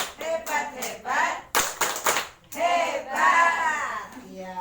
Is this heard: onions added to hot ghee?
no